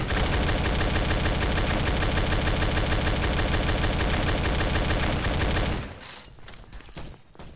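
Loud, continuous rapid automatic gunfire in a Roblox war game fills the first six seconds with dense repeated shots, then cuts off to quieter scattered noise.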